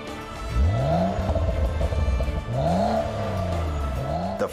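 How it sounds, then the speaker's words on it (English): BMW Kelleners Sport 640i Gran Coupe with a four-pipe sport exhaust, revving hard close by in several rising sweeps separated by brief drops in pitch, loud and throaty with no talk. "The four-pipe exhaust system provides for a sportier sound and reduces back pressure."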